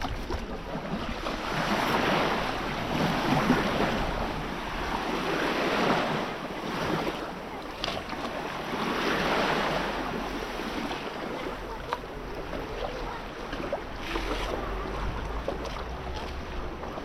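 Sea waves at Albena surge and break in slow swells while a stand-up paddleboard is launched, with heavy wind buffeting the microphone and no talk.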